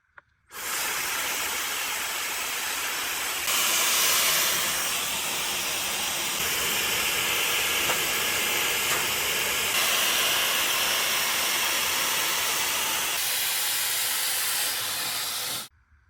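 A KSUU Store hair dryer blows steadily in a loud, continuous hiss, shifting slightly in pitch and strength as it runs, then cuts off at the end.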